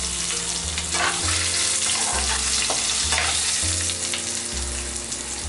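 Potatoes fry with masala in a pot for a millet biryani, a loud, dense sizzle throughout with stirring scrapes rising and falling over it.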